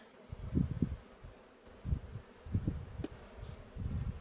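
Bees buzz around honeycomb frames in a hive, a faint, low droning hum that rises and falls in short swells.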